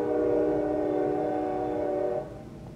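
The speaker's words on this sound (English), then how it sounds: "My train's going through" A train passes by a house, its horn sounding a steady, sustained chord over a low rumble of the cars; the tones stay level, then drop off abruptly near the end.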